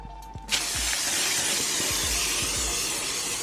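Cooking spray hissing from an aerosol can into a square pan lined with parchment paper: a soft click and then one continuous close hiss lasting about three seconds, alone.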